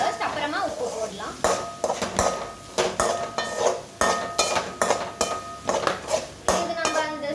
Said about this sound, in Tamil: இதெல்லாம் மிக்ஸ் பண்ணிக்கலாம் ஃபர்ஸ்ட்.